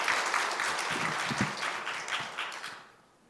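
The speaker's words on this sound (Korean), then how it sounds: "우리 다 같이 한번 하나님께 영광의 박수를 올리겠습니다." A congregation applauds in church with a burst of brisk, crowded clapping that holds steady and then fades out toward the end, with a few voices mixed in.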